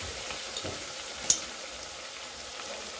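Chopped onion frying in a pan after masala spice powder goes in, a steady faint sizzle with one brief sharp tick midway and no voices.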